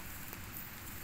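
Light drizzle falls over a farm field being sprayed with Basta herbicide, a faint, steady, soft hiss with no distinct drops and no voices.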